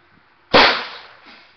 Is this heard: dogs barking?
no